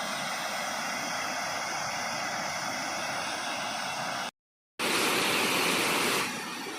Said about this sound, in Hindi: ये था घोगरा वाटरफॉल, जामसावड़ी में है।